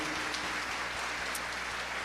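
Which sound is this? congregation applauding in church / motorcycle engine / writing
congregation applauding in church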